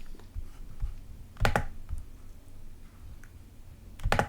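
A stock name is typed on a computer keyboard: a handful of scattered keystrokes and a couple of louder clustered clicks, close and fairly quiet, with no speech.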